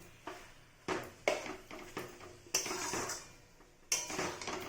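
A pan of bottle gourd curry with fried potato and spices being stirred, giving a series of close, sharp metallic scrapes and clinks of a utensil against the pan at irregular intervals, with no talk.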